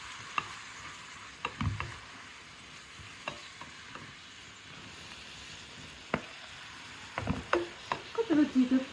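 A cinnamon-spiced mixture cooking in a pot for chicken seffa, with a soft, steady sizzle and scattered spoon-and-pot clinks. A cluster of stirring knocks comes near the end.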